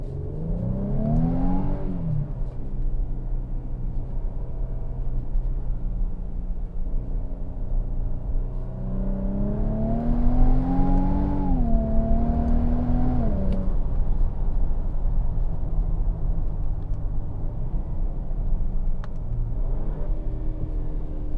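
A 2025 Infiniti QX80 Autograph's twin-turbo engine heard from inside the cabin, rising in pitch through several accelerating pulls with a deep hum beneath, then settling into a steady cruising drone.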